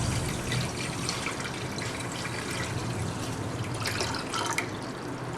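Water pours into a pan of sugar for rasgulla syrup in a steady splashing stream, close and fairly loud, with no talking.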